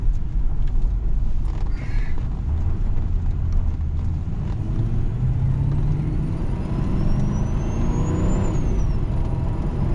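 A 1996 Lincoln Town Car accelerating hard at full throttle, its engine droning loudly and rising in pitch with gear shifts, heard from inside the car amid road and wind noise.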